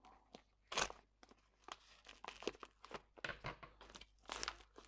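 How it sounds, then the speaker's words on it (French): Close-up crinkling and crunching as a package is cut open with scissors, a series of irregular sharp snips and tears, quiet and near. "je vais l'ouvrir avec une paire de ciseaux"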